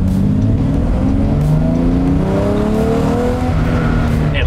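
An old exotic supercar engine with a 7,500 RPM redline revs hard as the car accelerates, a loud, close, continuous roar climbing steadily in pitch through several rising sweeps.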